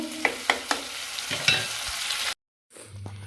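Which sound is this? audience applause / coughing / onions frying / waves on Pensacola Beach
onions frying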